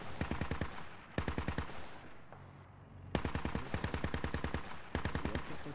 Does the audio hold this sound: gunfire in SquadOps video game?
yes